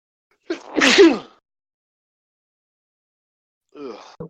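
One loud, close sneeze bursts out, followed by silence and then a brief quiet vocal sound at the end.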